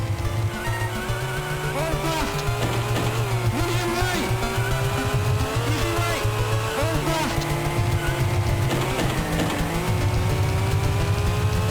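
Rally car engine in the game Going Places, a steady buzzing drone that wavers in pitch through long drifting slides, with faint squealing edges, loud and continuous while people talk over it.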